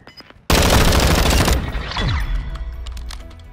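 Sustained burst of automatic gunfire erupts loud and close during a gunfight by a canal, a dense volley lasting about a second, followed by a descending whoosh and lingering rumble and scattered distant shots.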